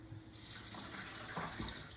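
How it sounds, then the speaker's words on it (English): Water starts pouring into a pot for lamb plov, a sudden hissing rush that begins after a brief pause and continues steadily, splashing and gurgling nearby. "I'm going to add the amount of water in here."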